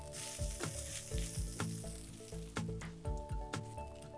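Finely chopped green chilies sizzle in a pan with lemon-infused rice, a steady loud frying hiss broken by repeated knocks of a spoon against the pan.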